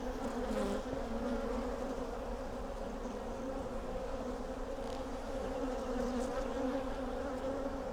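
Honeybees and drones buzz steadily around a small hive in dappled shade, with a continuous droning hum of many insects close by.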